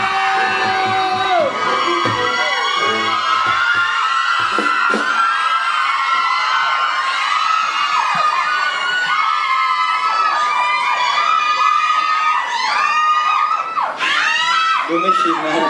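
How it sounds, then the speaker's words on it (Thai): A lively crowd cheers and shouts during a Thai eating challenge, with loud overlapping whoops and excited voices continuing without a break throughout. "ขอเชียร์กินให้เฟรมหน่อยเร็ว"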